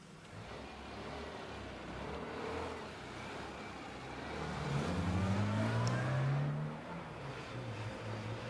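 An old classic Mini car driving, its small engine droning and rising in pitch as it accelerates, a steady moderate engine sound heard alone over road noise.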